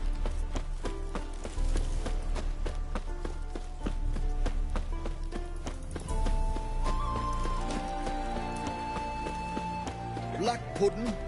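Roach the horse trots in The Witcher 3, a steady run of hoof clip-clops over game music and ambience, with a brief whinny-like sound near the end.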